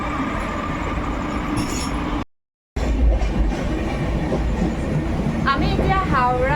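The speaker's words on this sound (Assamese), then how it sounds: "আমি এতিয়া হাওৰাৰ পৰা গৈ আছোঁ ডাইৰেক্ট পুৰীলৈকে মানে ট্ৰেইন ষ্টাৰ্ট দিছে" A moving passenger train running from Howrah to Puri, with steady rolling rumble and rattle of the carriages throughout, a brief dropout in the middle, and faint wheel squeals near the end.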